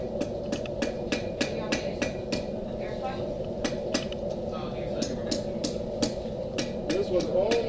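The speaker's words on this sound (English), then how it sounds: "I try to keep my hammer hitting at the same spot all the time" Steady, repeated hammer blows ring out on hot steel as a blade is forged, sharp metallic strikes landing at a fairly even rhythm over a constant low roar, probably a forge fire or blower, with faint voices in the background.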